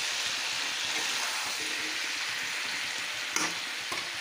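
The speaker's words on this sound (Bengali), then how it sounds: "ভালো করে লাল করে ভেজে নেব।" Raw banana pieces with turmeric and salt fry in oil with a continuous, even sizzle close by, with a couple of faint utensil taps near the end.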